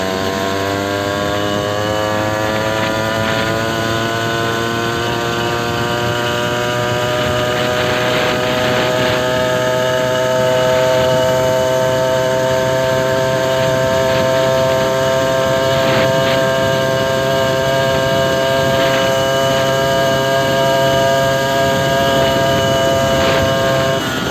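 A moped fitted with an aftermarket exhaust revs hard at full throttle, a loud, steady, raspy two-stroke drone that climbs slightly in pitch as it accelerates, close by and uninterrupted.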